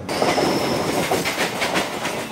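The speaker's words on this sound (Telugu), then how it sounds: "పవర్ఫుల్ లోకోమోటివ్ ని దాటేసాం మనం" A MEMU train runs fast past a locomotive, giving a loud, continuous rumble with rhythmic clickety-clack from the wheels on the rails and no voices.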